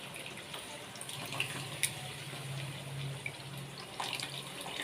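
Tamarind pulp water, squeezed from soaked tamarind for a Nellore-style fish curry, poured through a strainer, giving a steady soft trickle and splash with a few brief drips, close and fairly quiet, with no talking.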